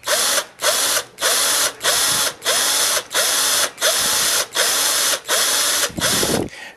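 A power drill pulses through a pilot hole in an Agfa Clack camera body, giving about ten loud, evenly spaced bursts with brief pauses between, close up and with no talking.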